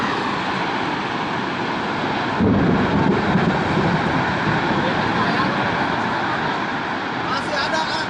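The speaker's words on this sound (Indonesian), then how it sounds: "Angin puting beliung di Kahatek." A puting beliung whirlwind tornado in Kahatek, Indonesia roars as a dense, continuous blast of wind, loud and close, with a heavier gust surging in partway through and persisting to the end.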